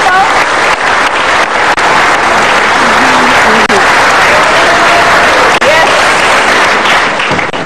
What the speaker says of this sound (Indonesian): Kita tepuk tangan dong Pak Octo.